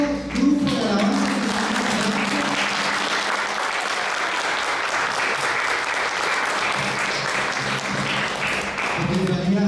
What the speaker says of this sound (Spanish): Vamos a darles un gran aplauso a este hermoso grupo de alabanza.